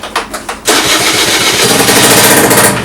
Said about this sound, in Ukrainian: Все, заводиться, все працює, все чудово.